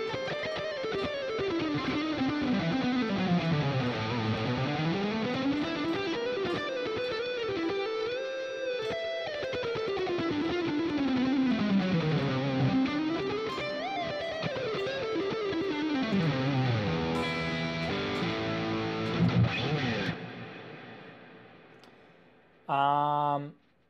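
An electric guitar plays a flowing lead line built from the five pentatonic positions, notes sliding and bending up and down through a distorted, effects-laden tone, ending with a short burst of plucked notes.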